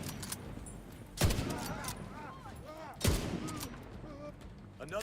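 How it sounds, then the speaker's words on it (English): Two sharp gunshots ring out in the video game The Division, roughly two seconds apart, each with a short echoing tail, while a voice talks quietly in the background. "Another shot and I'm dead."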